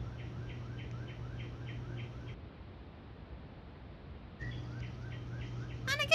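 Birds chirping in the horror game Fear Assessment, a repeating series of quick high chirps over a low hum, cutting out for a couple of seconds and then resuming, ending in a brief sharper trill.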